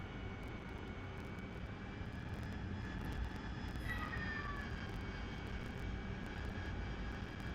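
Harrier jet in a flight simulator game banking to the right, a steady, fairly quiet engine roar with a continuous broadband rumble and faint high whining tones that bend slightly midway, with no voices present.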